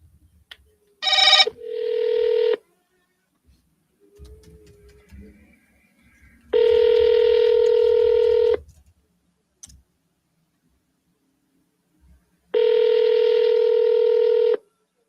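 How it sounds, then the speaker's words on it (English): Telephone keypad dialing tones from a call to a seller, placed twice in a row: a quick burst of DTMF beeps, then two long, steady ringback tones separated by silence, clear and alone. "We're going to double dial him."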